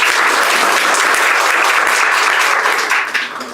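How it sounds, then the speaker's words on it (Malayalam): Loud, sustained audience applause at a live educational session, a dense wash of many hands clapping steadily before tapering off near the end. "നമിത മാമിന് കുറച്ചും കൂടെ നല്ലൊരു ക്ലാപ്പ് കൊടുക്കാം"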